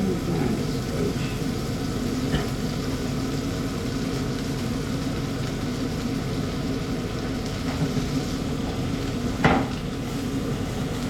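Butter sizzling in a hot pan before steak goes in, a steady, even hiss of frying that runs throughout, with a few faint clinks and taps of utensils over it.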